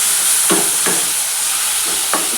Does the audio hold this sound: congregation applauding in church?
no